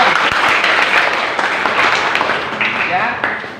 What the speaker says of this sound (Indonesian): Tepuk tangan dong buat teman-teman.